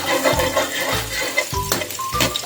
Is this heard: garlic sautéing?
yes